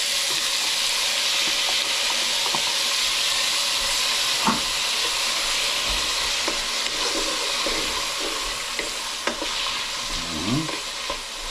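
Garlic, onion and tomato sauté together in a pan with a steady, loud sizzle that runs throughout, broken by scattered scrapes and knocks of stirring, with no voices.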